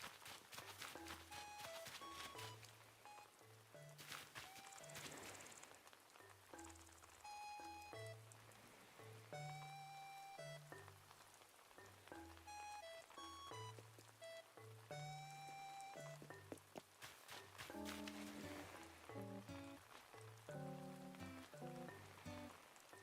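Rain falls on an island in Animal Crossing New Horizons as a soft continuous patter beneath steady, prominent game background music.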